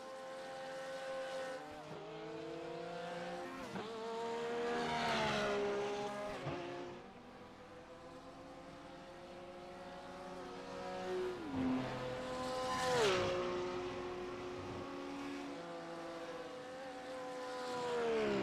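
Race car engines from the iRacing sim during the Spa 24-hour endurance race, a steady layered engine drone with rising and falling pitch sweeps as cars shift and pass, continuous at moderate level with no talk.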